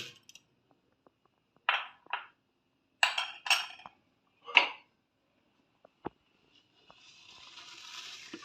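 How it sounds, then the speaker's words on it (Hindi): Tablespoons of sugar go into a jug while cold coffee is being made, giving several separate clinks and scrapes of a metal spoon against the container, spaced a second or so apart, followed by a faint soft pour at the end. "अब यहाँ पर जग में मैं 4 टेबलस्पून चीनी शामिल कर रही हूँ।"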